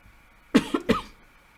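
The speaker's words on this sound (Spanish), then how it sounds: "disculpen, me agarró tos" Two short, close coughs in quick succession, followed by quiet.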